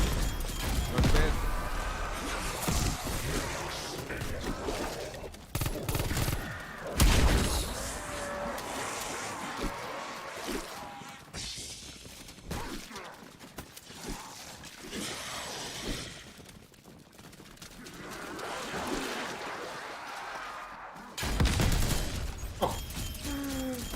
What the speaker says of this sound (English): this launcher is crazy good